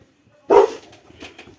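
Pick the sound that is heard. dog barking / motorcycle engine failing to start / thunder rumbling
dog barking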